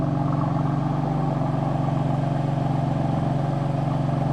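A loud car engine sits at normal idle, a steady deep rumble with a fast, even pulse that holds close and constant for several seconds.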